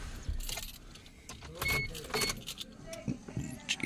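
A Suzuki Alto with a newly replaced distributor assembly is started, with keys jangling and a few bursts of engine sound from close by. No steady idle comes through.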